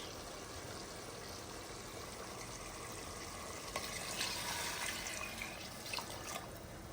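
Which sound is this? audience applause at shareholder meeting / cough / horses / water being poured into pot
water being poured into pot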